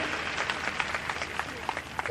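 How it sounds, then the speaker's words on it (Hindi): A crowd at a public event applauds, with scattered distinct claps standing out over a softer, uneven wash of clapping at moderate loudness. "जोरदार तालियों की गड़गड़ाहट के साथ एक बार जोरदार अभिवादन"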